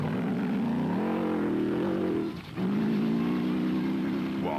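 A big Atlas Copco-sponsored rally truck engine races at the 2007 Nissan Dealer 400. A loud, sustained droning roar briefly dips and falls away as the truck passes, then resumes, revving hard on the straight.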